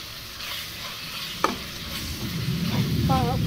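Bhurji with roasted peanut crumble is stirred in a hot pan, giving a steady low sizzle with one sharp utensil scrape partway through and a stirring scrape building toward the end.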